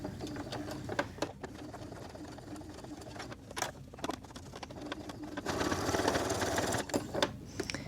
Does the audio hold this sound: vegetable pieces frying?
no